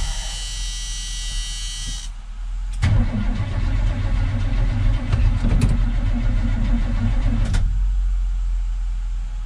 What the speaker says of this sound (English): Battery boost vehicle on now.